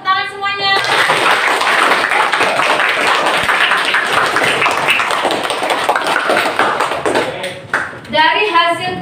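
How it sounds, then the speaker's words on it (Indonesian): A class of children claps together, a dense rattle of many hands filling most of the moment, with a voice speaking briefly before and after. "Oke, tepuk tangan semuanya."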